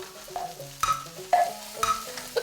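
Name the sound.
hors d'oeuvres frying on an old electric stove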